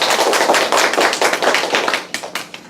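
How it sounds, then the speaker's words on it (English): Loud, dense clapping from a crowd at an English speaking competition fills the clip steadily, then thins toward the end as the applause tapers off. "So please give her an applause."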